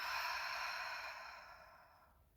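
A slow, soft exhale through the mouth during a hatha yoga breathing exercise, a single breathy airy rush that gradually fades out over about two seconds, close and quiet.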